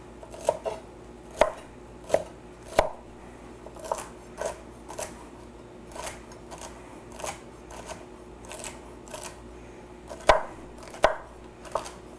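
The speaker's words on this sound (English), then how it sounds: "Now, celery's all cut up." A knife chops celery on a cutting board in crisp, evenly spaced strokes, roughly a dozen clean thuds, clustered at the start and again near the end over a quiet room.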